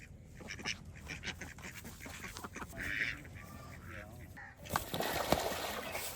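Ducks quacking near a pool as they are moved, with bursts of calls and some human voices and background noise mixed in, moderately near.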